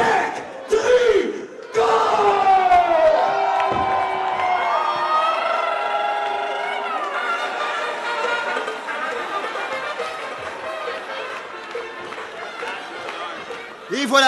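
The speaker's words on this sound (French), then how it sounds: "J'ai rarement entendu une foule aussi bruyante." A loud, roaring crowd at a wrestling show as the wrestler Electrico comes out, sustained cheering and shouting throughout with whoops and voices blending into a dense wall of noise.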